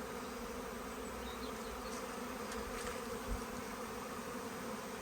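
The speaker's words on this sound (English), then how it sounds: "I've got bees landing on me and all sorts here." A garden bee swarm fills the air with a dense, continuous buzzing drone, steady and close, with no talking.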